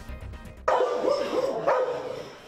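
Dogs bark inside an animal shelter, a burst of several overlapping barks and yips starting abruptly and continuing loud and close, with a second surge near the end.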